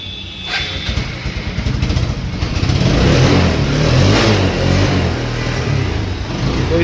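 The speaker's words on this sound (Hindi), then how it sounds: "तो हमारी बाइक स्टार्ट हो चुकी है।" A TVS Apache RTR motorcycle, freshly fitted with new clutch plates and engine oil, fires up and revs steadily, its mid-pitched engine note rising and swelling loud and close with no talking.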